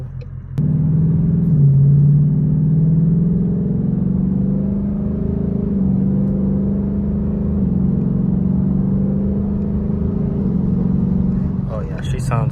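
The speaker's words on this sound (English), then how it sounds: "Hear that idle?" A Ford Mustang GT with an H-pipe exhaust idles close by, a steady deep rumble that holds through the clip without any revving.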